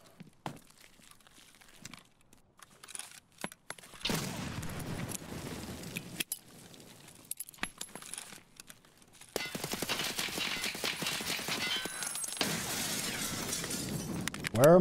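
Rapid bursts of video game gunfire during a firefight against a scav, dense crackling volleys swelling loud and sustained in the second half, with sparse clicks and quieter stretches earlier.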